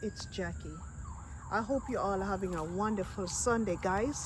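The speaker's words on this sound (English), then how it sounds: "Sorry about the noise of the ambulance." An ambulance siren passes outdoors, faint and wavering in the background beneath someone talking steadily.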